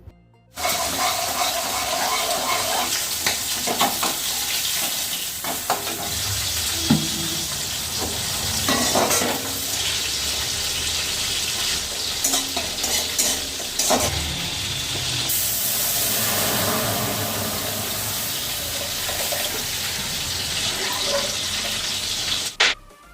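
Flat beans, potato and bori fry in a home kitchen curry pan with a steady broad sizzle, broken by scraping stirs and occasional clinks, close and without talk.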